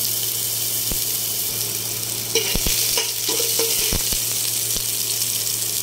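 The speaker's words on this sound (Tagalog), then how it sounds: "Dahil mainit na, lagyan natin yung ating luya." Ginger dropped into hot olive oil in a home kitchen sizzles steadily, with a few sharp clinks and scrapes of a utensil against the pan over the frying hiss.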